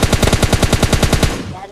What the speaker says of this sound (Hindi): तो फिर इनके पैरों में गोलियां बजाई गई